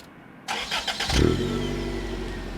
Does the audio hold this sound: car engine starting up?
yes